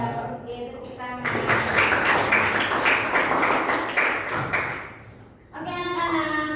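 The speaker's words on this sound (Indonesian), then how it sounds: "Oke, tepuk tangan." Schoolchildren clap together in a classroom, a dense, steady round of applause lasting about four seconds. It stops abruptly, with a teacher's voice before and after it.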